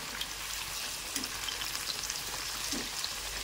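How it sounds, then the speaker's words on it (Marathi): Eggplant slices frying in oil in a pan, a continuous crackling sizzle with scattered pops, fairly quiet and steady throughout, with no talking. "सगळे हे वांगे तळून घ्यायचे आहेत"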